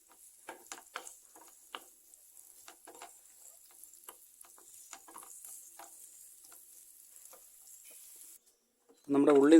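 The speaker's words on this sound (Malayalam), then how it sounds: "ഈ എണ്ണയിലേക്ക് തന്നെ നമുക്ക് നമ്മൾ അരിഞ്ഞു വെച്ചിരിക്കുന്ന ചെറിയ ഉള്ളി ഒന്ന് വഴറ്റിയെടുക്കാം" Chopped small onions sautéing in oil in a pan, a faint sizzle broken by sharp scraping stir strokes at irregular intervals, quiet and close, ending with a sudden louder burst.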